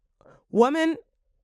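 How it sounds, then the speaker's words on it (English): A loud, voiced burp of about half a second, preceded by a faint short breathy sound, alone with no talk around it. "Sorry, I had to burp."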